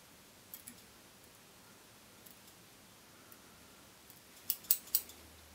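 Quiet scissors snips trimming fly-tying materials on a rubber leg Stimulator fly, a few faint clicks early and a cluster of crisp, close cuts near the end against near silence.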